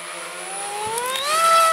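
An Easystar RC model airplane flies at full throttle with a thin electric whine that climbs steadily in pitch and gets slightly louder as it passes nearby.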